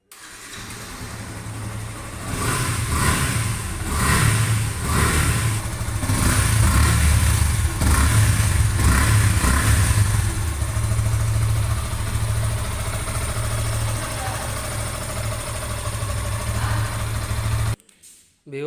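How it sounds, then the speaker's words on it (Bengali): A blue 2024 Yamaha FZ V2 motorcycle runs close by, its engine idling with a steady low rumble and revved in several surges before settling, then cutting off near the end. "তাহলে বাইকটির সাউন্ড কোয়ালিটি দেখি"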